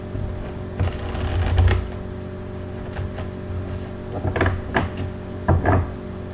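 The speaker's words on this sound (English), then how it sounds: "So I'm just going to shuffle here for a moment." Tarot cards are shuffled by hand in several bursts of soft riffling and slapping, close and fairly loud with short pauses between, and nobody speaks.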